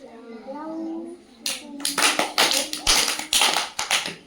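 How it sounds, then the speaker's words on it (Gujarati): Children clapping hands in a Gujarati first-grade classroom clapping game, a series of sharp, fairly close claps in a quick rhythm that follows a teacher's spoken prompt. "લવકુશમાં તાળી પાડવાની છે"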